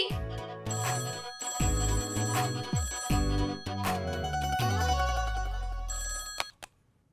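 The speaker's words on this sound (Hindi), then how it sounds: "फोन बज रहा है।" An old-fashioned telephone bell rings in repeated bursts, loud and close, with brief pauses between rings before stopping abruptly.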